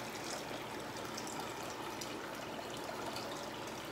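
Water is poured from a container to top off an aquarium in a fish room, giving a continuous even splash and stream throughout, fairly close and unbroken by voices.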